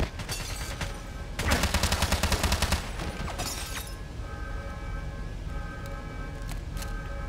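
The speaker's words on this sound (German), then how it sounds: "hör auf mich zu schießen!" Bursts of gunfire in the James Bond 007 Blood Stone video game: a loud rapid automatic volley that stutters in even repeats, then scattered shots and lingering noisy crackle and ringing after it.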